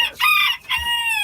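A Spangled Hamburg bantam rooster crows close by and loud, a single harmonic-rich call with a brief break before a long, sustained, slightly falling final note.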